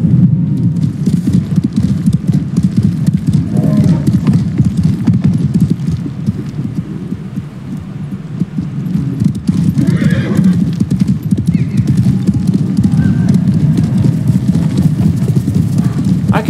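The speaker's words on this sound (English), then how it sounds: "You're a good horse, Kage." Hooves clip-clop steadily on a horse ridden in the Ghost of Tsushima video game, with a neigh or whinny rising partway through over soft rain-like ambience; loud and continuous, no talking.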